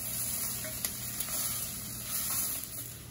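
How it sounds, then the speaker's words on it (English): Garlic sautéing in a pan gives a steady, close sizzle with faint crackles and a few light stirring clicks, no voice over it. "we're gonna just keep sauteing this until that garlic starts to get a little fragrant"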